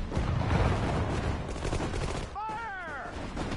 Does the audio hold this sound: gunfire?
yes